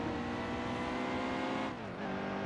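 A damaged race car engine drones steadily in NASCAR Heat 2, a loud, continuous buzzing whine that dips briefly in pitch near the end, as if the car lifts off the throttle.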